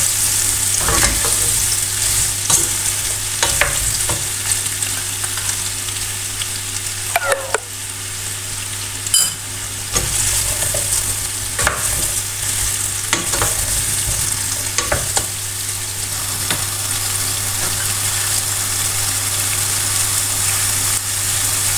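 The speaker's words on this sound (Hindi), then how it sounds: "5-4 ਮਿੰਟ ਹੋਰ ਇਹ ਮਸਾਲਾ ਪਾ ਕੇ ਭੁੰਨਾਂਗੇ" Masala spices roast in a pan for a sweet-and-sour carrot and cauliflower pickle, a loud sustained sizzle broken by repeated scraping stirs at irregular intervals, with a steady low hum underneath and no speech.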